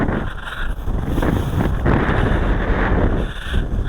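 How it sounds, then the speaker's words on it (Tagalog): Strong wind buffeting an outdoor microphone in a steady, loud roar with gusting surges throughout, no voices heard. "Grabe yung hangin ah."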